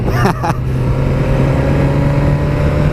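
A 2017 Suzuki GSX-R1000 sportbike rides along with a steady, loud engine drone and wind noise, a brief burst of voice near the start.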